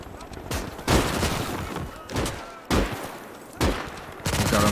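Machine gun fire in Call to Arms - Gates of Hell, an assault on a trench held by an MG position: loud, sustained bursts of automatic gunfire with several sharp surges, dense and close throughout.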